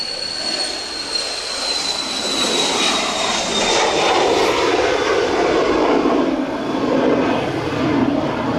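An Embraer Phenom business jet takes off with a loud, steady broadband roar and a thin high whine, holding strong throughout with no voices.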